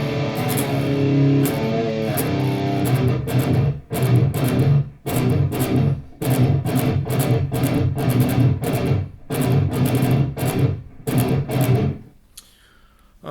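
Distorted rhythm guitar played loud through a JBL 15-inch powered speaker, strummed chords in steady rhythmic bursts with brief gaps, ringing out to near silence at the end.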